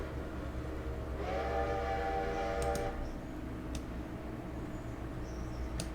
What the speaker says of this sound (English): Oh, that's the passenger train.